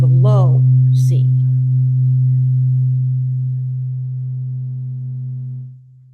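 A weighted tuning fork pitched to low C rings close to the mic as a steady, pure low hum that holds for about five seconds before fading, with a brief strike or touch noise at the start.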